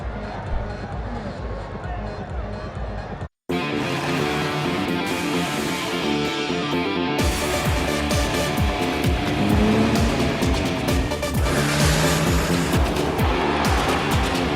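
Racing trucks at the Tata Motors T1 Prima Truck Racing event roar loudly and continuously, with engine drone and passing vehicles layered over a busy broadcast-style mix after a brief silence near the start.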